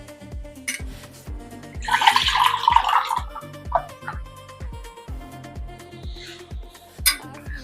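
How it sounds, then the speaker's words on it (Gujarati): Milk poured into a vessel, a gurgling, splashing pour lasting about a second and a half, moderately loud over a steady rhythmic background beat, with a fainter trickle later. "તો આપણે એક વાસણ લઈ લઈશું અને એમાં આપણે આ દૂધ લઈ લઈશું."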